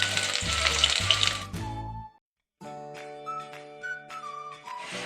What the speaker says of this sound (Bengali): এবার আমি এই তেলের মধ্যেই কয়েক টুকরো আলু ভেজে নেব।